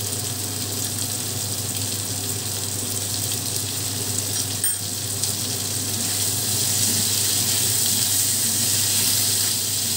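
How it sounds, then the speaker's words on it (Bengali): Small-cut potatoes fry in a pan over a gas flame, giving a steady, unbroken sizzle that holds at an even level for the whole stretch with no voices. "এবার আলুটাকেও আমি ভালো করে ভেজে নেব।"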